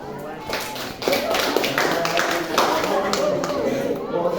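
Children in a classroom clap together in a scattered, sustained burst, with taps and a lively room noise throughout.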